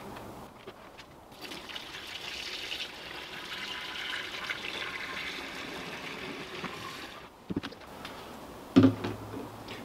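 Milton sterilising fluid poured into a caravan toilet cassette, a steady close trickle and splash of liquid running for several seconds before a couple of sharp plastic knocks near the end.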